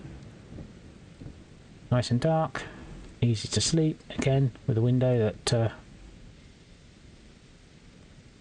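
Rain falling with thunder in the video game Enshrouded, in Veilwater Basin: a soft, steady wash of rain noise runs beneath someone speaking, with low rumbling in the background throughout.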